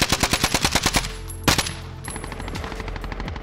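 Call of Duty Warzone gunfire: a rapid burst of about ten loud machine-gun shots, a sharp single blast, then quieter distant shooting and game noise.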